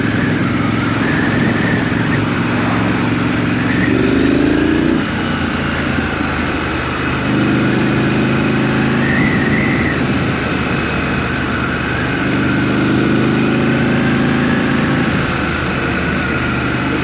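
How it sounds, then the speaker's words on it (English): A Triumph Scrambler 900 motorcycle engine drones steadily while riding, loud and close with constant wind roar, its low tone rising and falling through several rev changes and gear shifts, with no talking. "So back on board the Triumph Scrambler 900. It's very smooth plodding along on this bike."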